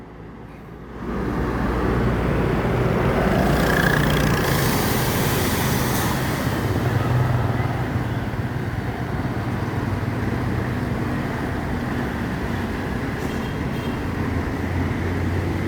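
A PT Rapi bus passes in front of a bus terminal, its engine and road noise swelling abruptly after a second and then holding as a loud, steady rumble and roar that slowly eases.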